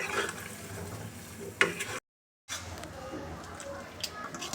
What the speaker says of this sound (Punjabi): ਇਹਨੂੰ ਇਸ ਤਰ੍ਹਾਂ ਹੀ ਗੈਸ ਬੰਦ ਕਰਕੇ ਥੋੜੀ ਦੇਰ ਹਿਲਾਣਾ ਹੈ ਤਾਂ ਕਿ ਇਹ ਜਲਦੀ ਠੰਡਾ ਹੋ ਜਾਵੇ